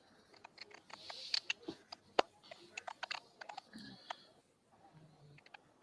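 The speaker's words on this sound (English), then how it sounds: "It sounds like someone typing on a keyboard." Rapid irregular clicking of keys on a computer keyboard, a run of sharp close taps with brief pauses, alone and fairly quiet.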